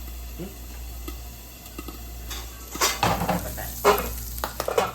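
Diced ham sizzles in a hot pan with scattered sharp pops and crackles that grow busier toward the end, close by, with no talking.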